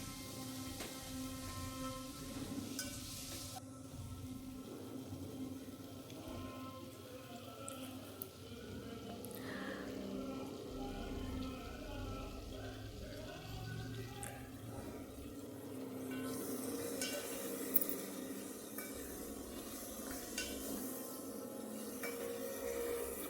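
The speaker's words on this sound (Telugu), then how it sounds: "ఇవన్నీ వేసాక కొంచెంసేపు ఫ్రై అవ్వాలండి" Okra and other vegetables for Telangana sarva pindi sambar frying in a pan, a steady sizzle with stirring and faint clatter running throughout, close and moderately loud, with no talking.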